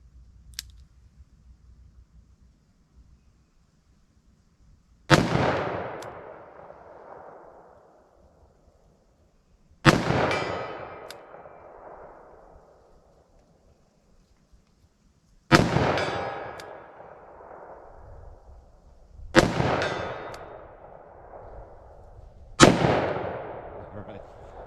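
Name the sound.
gunshots from a short-barrel handgun hitting steel targets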